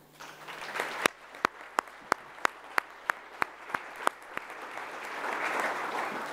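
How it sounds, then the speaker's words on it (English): A run of sharp, evenly spaced hand claps gives way to a soft wash of applause from a distant audience at a World Telecommunication and Information Society Day conference. "Please give them all a big round of applause."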